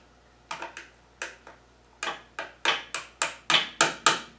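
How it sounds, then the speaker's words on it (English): A hammer taps a pinion seal into a Salisbury rear axle with a Detroit Locker, giving about a dozen sharp metallic knocks. The blows start sparse and irregular, then come in a steadier, closer run toward the end. "So we're going to tap that in with a hammer."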